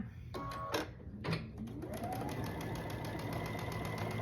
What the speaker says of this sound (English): I'm going to sew a seam down this line